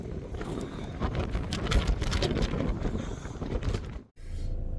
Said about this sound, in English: it's that windy up here